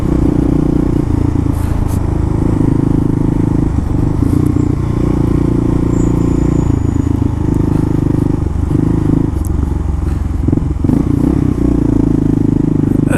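A motorcycle exhaust rumbles loudly up close with a deep, steady idle, punctuated by brief blips and clattering mechanical noises.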